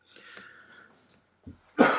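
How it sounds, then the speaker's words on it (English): A person coughs near a microphone: a soft throat sound and a faint breath come first, then a short sharp burst that ends in one loud, harsh cough. "Trying not to cough straight into the microphone."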